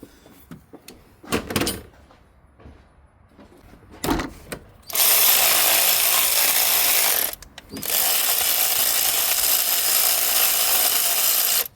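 Ratchet wrench loosening the serpentine belt tensioner pulley bolt on a Lexus LS460, heard as scattered clicks and short bursts followed by two long, loud, steady stretches of rapid ratcheting close by, with no talk.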